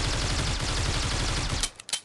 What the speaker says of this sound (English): you need to shoot to see where the bullets go